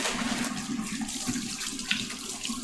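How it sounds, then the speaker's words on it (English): Tap water runs steadily over raw trimmed pork in a kitchen sink, a continuous close rush and splash for a few seconds. "I'm just gonna quick rinse this in there."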